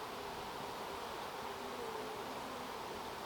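Honey bees hum at a heavily populated hive, a dense, steady buzzing drone that stays faint and constant throughout, with no voices.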